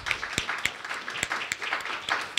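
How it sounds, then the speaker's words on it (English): A panel audience at a university conference on EU-Russian energy relations claps briefly, a short stretch of moderate, scattered handclaps with a few sharp individual claps standing out. "could we just give him a round of applause for thanking him?"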